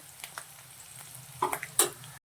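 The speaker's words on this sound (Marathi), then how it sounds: "तेलाचं प्रमाण कमी ठेवायचं आहे कारण तेल एक्सेप्ट जास्त शाबू करत नाही तेलकट होतो शाबूदाना त्यामुळे मस्त असे शेंगदाणे खरपूस भाजून घ्यायचे आहे" Peanuts roasting in a little oil in a pan give a soft, close sizzle with a few louder stirring scrapes near the end, quiet overall and without speech.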